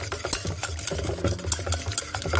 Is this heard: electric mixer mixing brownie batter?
yes